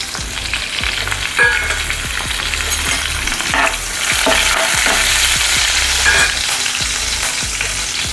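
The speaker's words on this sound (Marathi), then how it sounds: "तूप गरम झालं, मी त्याच्यात राई, जिरं आणि कढीपत्ता टाकलं." Mustard seeds, cumin and curry leaves crackle loudly in hot ghee, a dense close sizzle with sharp pops and repeated clinks of a stirring spoon against the pan.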